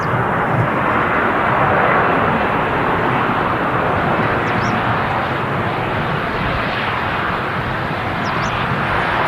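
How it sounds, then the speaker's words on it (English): Pegasus Airlines Airbus A320neo landing at Manchester Airport on arrival from Istanbul: a steady, loud, broadband jet engine roar, with no voices. "Just greasing the landing. Pegasus Neo in from Istanbul."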